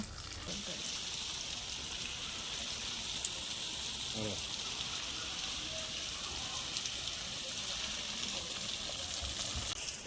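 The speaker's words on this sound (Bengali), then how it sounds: "গাছগুলো এরকম ভিজিয়ে দিই" Water sprinkled over garden plants to soak them makes a steady, fairly loud hiss like rain on leaves, continuous throughout with a faint voice briefly underneath.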